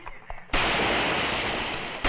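Gunfire in a western shootout, a sudden loud burst that sets off a dense, sustained roar of shots and blasts after a quieter opening with faint voices.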